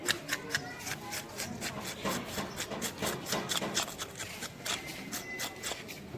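Fish for a curry being cleaned by hand, a close, continuous rhythmic scraping and rubbing with quick repeated strokes throughout, fairly quiet, with no talking.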